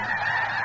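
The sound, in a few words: snow geese honking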